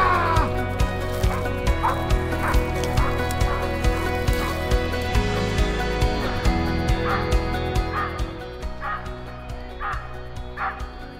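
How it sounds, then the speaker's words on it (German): A hunting dog barks while tracking wild boar in rough terrain: repeated sharp barks and yips at a steady rhythm, moderately distant outdoors, with whimpering notes between them over a long stretch. "Jack hat Sauen gefunden."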